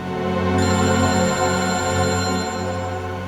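A telephone ringing in a crime-drama scene, its steady electronic tone repeating over a dense musical background, loud and continuous with no talk.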